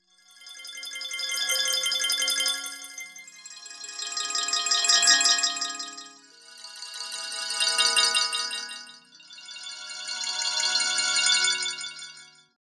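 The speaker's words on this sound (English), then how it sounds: "This device is an approximation of a bowed glass or vibraphone kind of instrument" A Max for Live Whistle device, a physical-modeling and granular-synthesis instrument approximating bowed glass or a vibraphone, plays four long, bright, shimmering tones that each swell and fade, alone with no voices.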